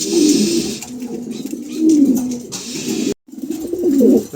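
Pigeons kept for sale coo in low, throaty repeated phrases, close and fairly loud, with a short silent gap before the cooing resumes.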